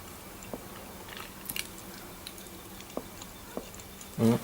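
Roasted Australian bunya nuts are chewed close by, with sparse soft crunches and bites at scattered moments over quiet background. A louder low thump comes near the end.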